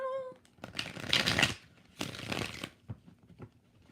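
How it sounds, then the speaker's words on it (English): Tarot cards are shuffled by hand in two quick riffling bursts, each about a second long, close and crisp, followed by a few soft taps as the deck settles. "4 shuffles for Nausea."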